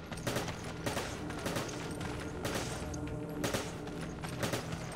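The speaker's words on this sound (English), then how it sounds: "She's shooting at somebody." Repeated bursts of gunfire from an AI partner in Resident Evil 5, sharp shots clustered in short volleys at a steady moderate level over dense game ambience, with no talking.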